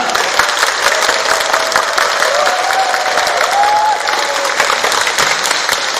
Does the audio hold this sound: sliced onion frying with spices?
no